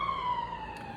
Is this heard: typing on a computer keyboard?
no